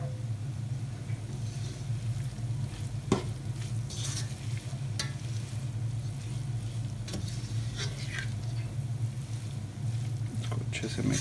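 Mixed vegetables with salt and garam masala stirred in a pan, with a steady sizzle over a low hum and intermittent spoon scrapes and taps against the pan.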